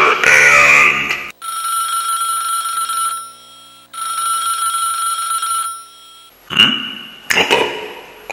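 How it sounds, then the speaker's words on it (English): An old-style bell telephone rings loudly in two long trilling bursts with a short pause between them, and louder noises come before and after the rings. "That phone never rings."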